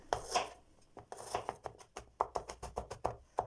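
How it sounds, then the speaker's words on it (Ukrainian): Garlic being chopped with a knife on a board, a series of about a dozen sharp, close taps in an uneven, quickening rhythm, with a brief rustle of handling at the start. "Нарізаю часник."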